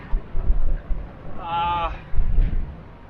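Wind buffets a microphone aboard a small boat at sea among reefs, low rumbling gusts rising and falling with a brief tonal voice-like burst in the middle.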